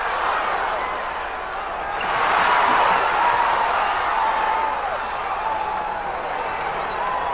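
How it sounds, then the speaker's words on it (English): A large stadium crowd on a race's opening day roars in the distance, a broad wash of cheering that swells briefly in the middle and then settles back. "This is a great opening day crowd."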